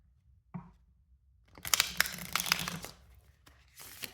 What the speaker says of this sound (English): There'll be a lot of shuffling.